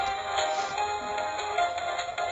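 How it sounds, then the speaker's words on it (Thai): A phone ringtone chirps in a steady, repeating electronic pattern over dense background noise while a Stickman game plays, at a moderate level throughout. "เอ้โทรศัพท์ โทรศัพท์"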